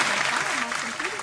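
A studio audience claps for a guest on a talk show, a brief steady burst of clapping with a voice speaking over it.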